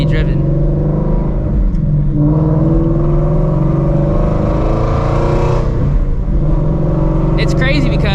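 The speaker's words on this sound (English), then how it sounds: "just listen to the exhaust and just get a feel for the car" A Shelby GT350 Mustang with long-tube headers rumbles steadily through its exhaust from inside the car, a loud continuous drone with the pitch shifting as the engine revs, while people talk over it.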